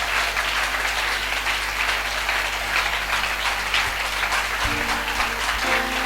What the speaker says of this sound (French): Acclamez le Seigneur. Clap